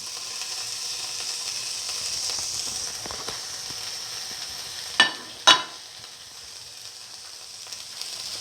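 Tomato pieces go into a hot pan for a soy chunk and fenugreek leaf noodle dish, giving a steady, close sizzle. Two sharp metallic clanks cut in midway, then the sizzle continues more quietly.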